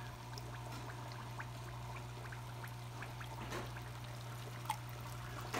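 Water from a home fish tank is being drawn off, a faint steady trickle with small drips over a constant low hum, with no voices.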